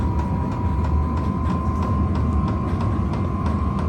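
Vevor diesel heater ramping up, a steady loud mechanical drone with a constant whine and faint rhythmic ticking from its fuel pump, running continuously close by.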